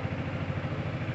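A 2021 Yamaha Xmax 250 ABS scooter engine idles steadily close by, a continuous low rumbling drone with slight clatter and no talk.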